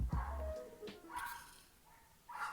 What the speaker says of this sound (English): Is that a fucking dog?